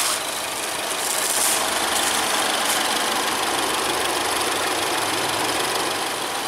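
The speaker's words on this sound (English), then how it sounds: "The Fusion Titanium comes with Ford's EcoBoost 2-liter 4-cylinder, which produces 240 horsepower and 270 foot-pounds of torque." A 2014–2015 Ford Fusion Titanium with the 2-liter EcoBoost four-cylinder idles nearby, a steady, even hum with a faint ticking texture and no revving.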